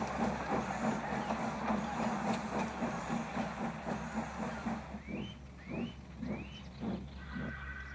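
A steam engine puffing away on Thomas and Friends: a steady chuffing rumble with rhythmic puffs and hiss, joined near the end by a few short rising whistle-like chirps.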